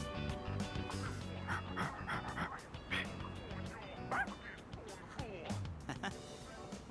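A dog in the video game Persona 3 Reload barks and yips in short bursts, mixed with game music and someone talking over the sounds.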